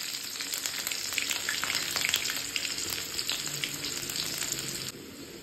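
Cumin and onion fry in hot oil over a village cooking fire, a steady dense sizzle with crackling pops close by, no voices.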